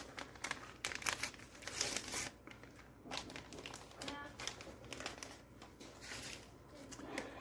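Paper seasoning envelope for meatloaf being torn open and crinkled, close and fairly quiet, with repeated rustling bursts.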